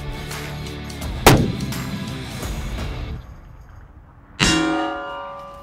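A .40 caliber smokeless muzzleloader on a Mesa action fires at a target 1,780 yards away, giving a sharp, loud report followed by a rolling echo, then a second distant boom after a brief lull.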